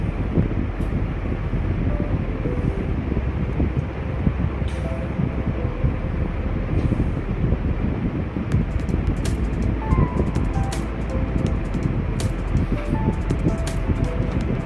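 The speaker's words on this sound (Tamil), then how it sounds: "இது ஒரு குட்டி ட்ரெயின்." A small tourist train rumbles along with a steady clatter and rushing wind in Liechtenstein, continuous and fairly close, with no voices.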